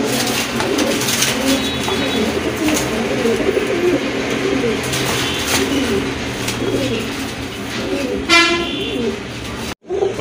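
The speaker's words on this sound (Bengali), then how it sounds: "এই যে দেখেন দুইটা কবুতর, কালার কিন্তু মাশাআল্লাহ খুবই চমৎকার কালার কোয়ালিটি কবুতর" Pigeons call among steady background noise and chatter, a pair of satin pigeons shown for sale at a bird market, with a short horn-like toot near the end.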